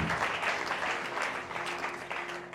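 A church congregation at a French-language service applauds together, producing a full, continuous patter of hand claps that stays fairly strong across the short stretch.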